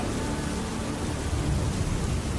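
Heavy cartoon rain pours as a steady, dense hiss of falling water with a low rumbling undertone, continuous and fairly loud, with no voices.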